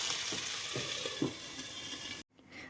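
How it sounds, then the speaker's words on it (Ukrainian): Sliced zucchini rounds sizzle steadily in hot oil, a close, dense frying hiss with a few soft stirring knocks, cutting off abruptly near the end. "Так само кружечками нарізаємо кабачок і обсмажуємо на олії."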